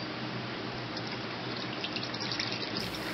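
Liquid strawberry extract, aged three months, pours steadily through doubled cheesecloth, a continuous close trickling gush with no talking.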